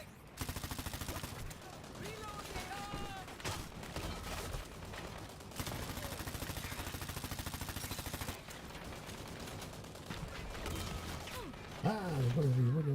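Rapid gunfire from the online shooter Dirty Bomb rattles in dense bursts across most of the stretch, with a voice talking over it near the end.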